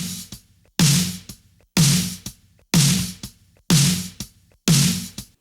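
A snare drum heavily squashed by a 1176 compressor with all buttons in on a parallel bus hits six times at an even pace, each crack bright and sharp with a long, dense, pumping tail, heard alone.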